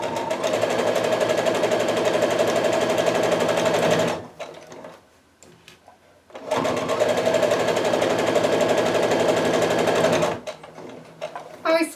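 A sewing machine runs steadily, stitching across the seam of a kaleidoscope quilt block in two long continuous bursts, with a brief pause between them and a short restart at the end.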